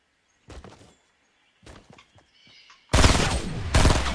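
Heavy shotgun fire in the Fortnite video game: a few scattered quieter thuds, then two loud, broadband blasts close together near the end.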